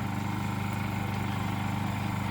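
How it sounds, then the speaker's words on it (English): A Honda EU2000 generator idles at a concession stand beside a football field, giving off a steady, even, low hum with a faint regular pulse and no change in pace. "This generator is being used in a mobile concession stand here at a football field here."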